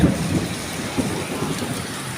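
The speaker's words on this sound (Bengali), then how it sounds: "তা ইনশাল্লাহ এখন বৃষ্টি হইতেছে।" Steady, moderate rain falls on a cloudy, cool day at Baliahati market in Bhanga, Faridpur, a continuous even patter filling the scene with no voices.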